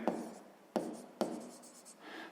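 A pen or chalk scratching out figures by hand during a sixth-grade math exercise, three quick strokes starting sharply and trailing off, close and quiet with no talk.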